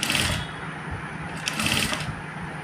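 A sewing machine runs along the edge of a 1.5-inch boat neck facing, giving a steady, close, moderately quiet stitching whir in two short bursts with a slight pause between them.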